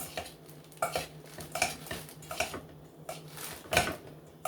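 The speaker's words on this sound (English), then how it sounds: "we're just going to kind of dry mix these up. Turn your bowl." Turkey salad ingredients being dry mixed in a bowl, with intermittent clinks and scraping taps of a utensil against the bowl at an uneven rhythm, close and moderately loud.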